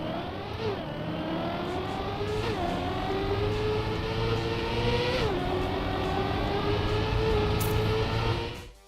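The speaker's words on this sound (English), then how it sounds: "a clean gear should sound like this" A Trackmania racing-game car engine whines steadily at high revs through clean gear shifts. Each shift gives a quick, sharp dip in pitch before the tone climbs again. The sound is loud and continuous, with no talking.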